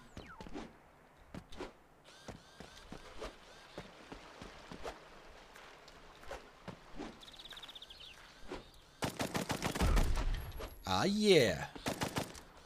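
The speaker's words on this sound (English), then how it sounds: "Machine gun's working out well with me." Machine gun fire in the side-scrolling game Blast Brigade, rapid rattling bursts that become loud near the end, preceded by quieter footsteps and scattered game effects; a voice speaks briefly.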